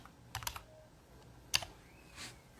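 A few quiet, scattered keystrokes tap on a computer keyboard in short bursts with gaps between them, close to the microphone and without talk.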